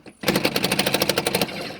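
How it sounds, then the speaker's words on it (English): An impact drill spins lug nuts loose on an Infiniti QX60 wheel, a loud rapid hammering rattle of about a dozen evenly spaced bursts lasting just over a second, close up with no talking. "we're going to take our impact drill, and turning it left for loose"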